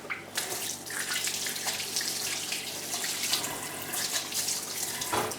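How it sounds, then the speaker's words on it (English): Hands being rinsed under a running kitchen tap while repotting an orchid, a steady broadband rush of water with splashing and small shifts as the hands move in the stream, close and continuous with no talking. "I don't know why I'm washing them to get them clean."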